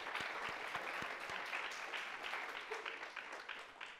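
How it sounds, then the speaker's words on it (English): An audience at a brain and behavior research retreat claps for seed grant winners, fairly quiet and roomy applause with a few distinct near claps early on that thins and fades over four seconds. "We can have a round of applause to all of them."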